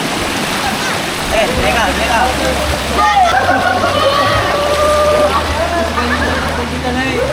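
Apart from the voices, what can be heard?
river water flowing over split rocks at Antong Falls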